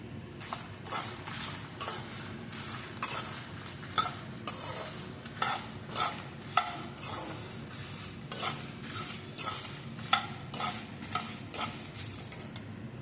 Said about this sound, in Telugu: ఇలా వేగేటప్పుడే ఎండుమిర్చి కూడా వేసి వేయించుకోవాలి